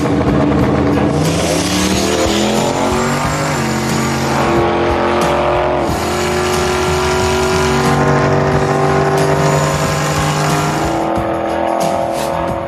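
A hot rod drag car roars loudly down the strip on a 10.16-second, 129 mph run, its engine note climbing through rapid gear changes, sustained and close with heavy rumbling throughout.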